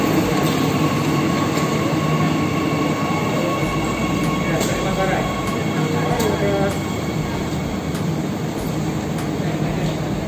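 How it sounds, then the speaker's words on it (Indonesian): An electric commuter train pulls into Karet station in Jakarta, a loud continuous rumble of wheels on rails with intermittent squeals and clanks, close and steady throughout. "kereta udah nyampe, guys"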